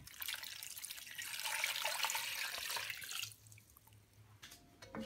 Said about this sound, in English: Don't forget to add your water.